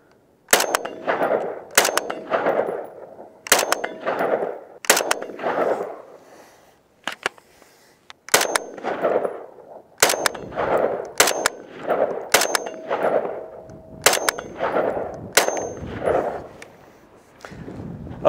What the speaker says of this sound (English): This gun is a soft shooter. There is almost no recoil.